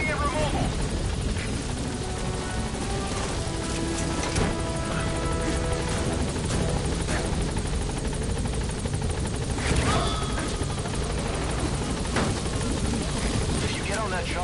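A helicopter hovers loud and steady at a landing zone in a combat video game, its dense rotor roar continuous throughout, with bursts of distant gunfire and voices over it.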